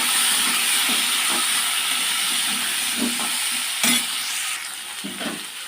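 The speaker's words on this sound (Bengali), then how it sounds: "আলু আর সয়াবিনটা সুন্দর করে ভেজে নেব" Potato pieces and soya chunks frying with turmeric and salt, a loud steady hiss and sizzle of hot oil with occasional soft stirring knocks, close up.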